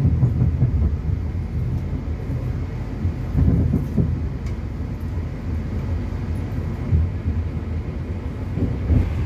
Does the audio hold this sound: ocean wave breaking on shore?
no